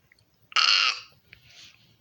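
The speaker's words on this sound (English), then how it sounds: "did you just burp?" A single short, loud burp bursts out and fades within about half a second, followed by a faint softer sound over a quiet background.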